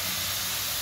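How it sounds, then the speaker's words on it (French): Sudden loud hiss of steam as a little water hits vegetables cooking in a hot pan for a courgette, aubergine and pepper quiche, a brief dense burst close up. "on va rajouter un tout petit peu d'eau pour la laisser cuire et que ça n'attache pas"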